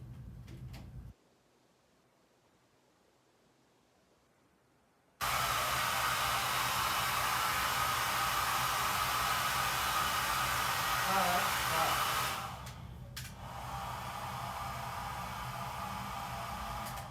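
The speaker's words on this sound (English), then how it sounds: "I gotta go use the blow dryer." A hair dryer blows air on hair nearby with a loud, steady whoosh that lasts about seven seconds, then drops to a lower, quieter setting, after a quiet stretch at the start.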